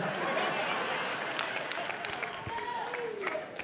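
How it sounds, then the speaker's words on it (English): Women in a church audience clap in scattered applause under a preacher's amplified voice and crowd murmurs. "I already got women clapping in here"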